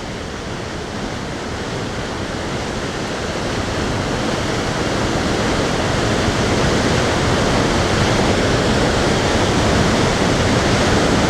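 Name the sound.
waterfall at Nay Aug Park, Scranton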